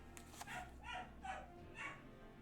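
A pet dog barks repeatedly in the background, four or five faint, evenly spaced barks heard indoors from some distance.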